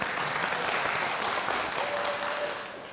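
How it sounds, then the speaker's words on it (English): Church congregation applauding during an all-church meeting, a dense, steady wash of clapping that holds throughout and tapers off slightly at the end. "everybody applaud Susan Williams."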